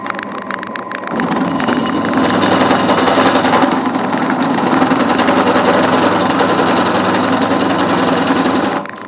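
A poor-quality power drill, used while balancing a model steam engine flywheel, starts up after a second and whirs steadily at high speed, a loud continuous motor drone that cuts off near the end.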